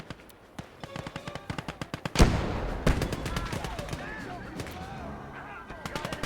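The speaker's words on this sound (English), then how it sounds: "let's get this mortar going" Mortar and small-arms fire in the WWII strategy game Gates of Hell: a rapid crackle of distant shots throughout, two heavy booming blasts with rumbling tails, then more scattered pops.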